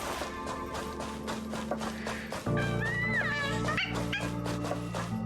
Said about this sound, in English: I love this dog.